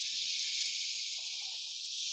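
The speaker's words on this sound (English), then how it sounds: "Hear that sizzle?" A steady, close sizzle and hiss of red wine vinegar hitting a hot pan, continuing without pause at moderate volume.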